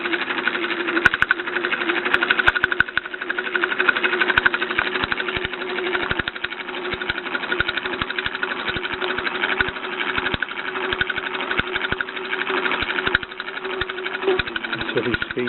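A Bowman M135 toy steam engine runs with its safety valve blowing, giving a fast, steady mechanical chatter and a constant hum close by, with talk heard over it.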